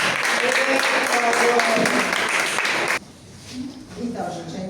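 Congregational applause fills a church service, a dense crowd of hands clapping for about three seconds before cutting off abruptly, after which a voice begins speaking over quiet room tone.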